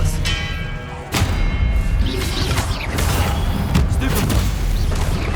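An Expelliarmus disarming spell is cast mid-duel in Hogwarts Legacy amid a dense, loud combat mix of repeated booms, crashes and thuds, with a sharp hit near the start and steady rumbling impacts after.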